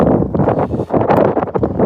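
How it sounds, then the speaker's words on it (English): Gusty wind from Hurricane Milton buffets a bass-fishing boat, a loud, rough rumble of microphone wind noise with short lulls between surges. "I feel that wind coming around the corner"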